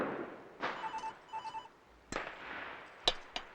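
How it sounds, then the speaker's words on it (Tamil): A telephone rings downstairs in a home during Karthigai Deepam, a few faint, distant trilling rings broken by sharp firecracker bangs. "கீழே ஃபோன் அடிச்சிட்டு இருக்கு"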